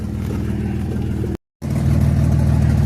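Dodge car engine drones while driving, a loud steady low rumble close by, briefly cut out for a moment then resuming slightly stronger.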